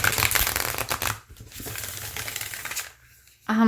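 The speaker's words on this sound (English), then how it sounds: "it shuffles pretty nicely once I get my hands around it" Close, rapid papery riffling of a tarot deck being shuffled, a short pause, then a voice starting at the very end.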